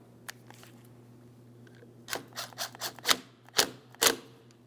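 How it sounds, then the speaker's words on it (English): An 8mm mounting nut is tightened on the coolant reservoir of a 2003-2008 Toyota Matrix 1.8L L4: quiet close ratcheting clicks in a short irregular burst after a near-silent start. "continue on with our 8mm mounting nut. Once you have that nut started on, just go ahead and snug it up."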